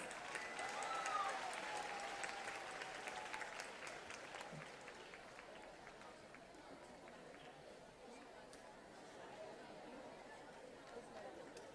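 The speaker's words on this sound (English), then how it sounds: "Big round of applause, guys." Audience applause greets teachers from Sheikh Gopalji Hemraj High School and Tardeo BMC Urdu Medium School as they come on stage, a steady crowd clapping with chatter that slowly fades.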